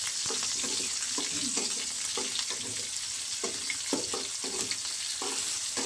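Thin-sliced onions and cumin seeds stirred while they fry in a pan for veg fried rice, a steady close sizzle broken by repeated scraping strokes of a spoon, with no talking.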